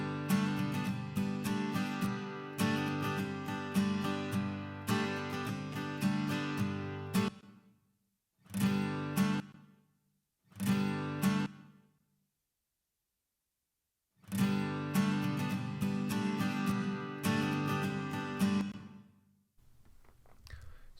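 Acoustic instruments, guitars and similar, played through a medium plate reverb in a HOFA IQ Reverb plugin. They come as loud sustained strummed passages broken by short bursts and pauses, with a brief reverb tail lingering into the silences.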